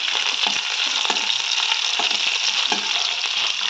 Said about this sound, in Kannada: ಬ್ರೌನ್ ಕಲರ್ ಬರೋವರೆಗೂ ಫ್ರೈ ಮಾಡ್ಕೊಳ್ಳೋಣ